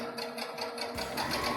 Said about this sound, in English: I'm all ready to stitch, so let's start to sew here.